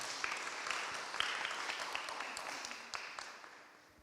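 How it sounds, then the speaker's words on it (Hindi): A crowd at a Friday prayer meeting of an Asian church fellowship applauds with dense, steady clapping that fills the whole stretch, fairly distant and gradually thinning toward the end. "तालियां बजाएं जो जिनको मैं बुला रहा हूं सामने"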